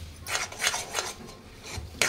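Thickening putnala pappu laddu mixture stirred in a pan, heard as several close, rhythmic scraping strokes of a spoon against the metal, each a short rasp, with no talk.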